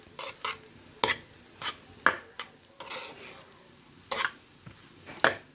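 Vegetable fried rice being stirred in a pan, with a string of sharp spatula scrapes and clinks against the metal at an uneven rhythm over a faint sizzle, close and without talk.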